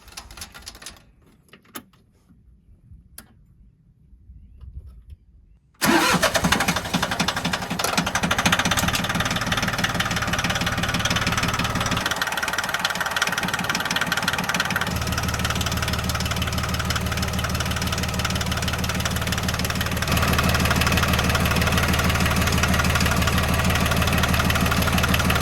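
A John Deere 750 tractor engine cranks and catches after a quiet stretch, then settles into a loud, steady, close idle with a knocking, clattering rhythm and small shifts in pitch.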